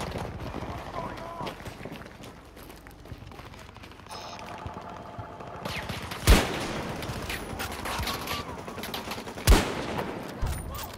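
Sparse gunshots in a first-person shooter war game against Russian forces, two sharp loud reports standing out over a busy background of game ambience, with talk over it.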